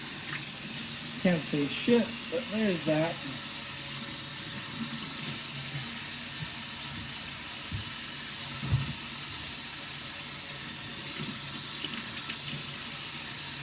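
Cold tap water running into a kitchen sink to rinse potatoes, a steady broadband rush that continues throughout, with a brief spoken remark near the start.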